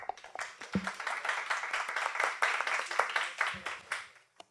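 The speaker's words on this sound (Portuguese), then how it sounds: "uma salva de palmas" An audience claps after an academic history lecture, a moderate burst of individual handclaps that builds quickly, holds, then thins out, with a couple of low knocks near the start and end.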